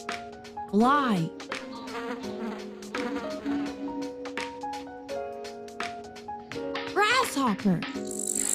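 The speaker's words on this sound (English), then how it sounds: "Fly." Buzzing from a fly sits under a bright, melodic musical backing with rising and falling synth sweeps, the music staying prominent across the whole stretch.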